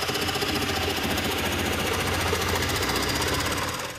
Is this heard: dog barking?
no